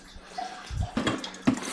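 Water drips and trickles off an i20 hatchback after washing, a few splashy patters and gurgles at close range against a quiet background.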